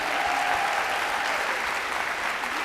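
Audience at a student government event applauding the SGA team, a steady wash of many hands clapping at close range, filling the whole moment without pause.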